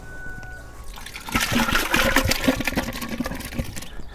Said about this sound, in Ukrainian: зараз те, що ми залишали для брудіння, забираємо і виливаємо